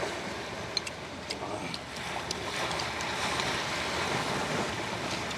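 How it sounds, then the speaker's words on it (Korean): Sea waves roll and wash steadily off the coast of Tongyeong, making a broad, continuous surf roar that stays close and loud, with a few faint clicks on top. "파도가 막 옵니다."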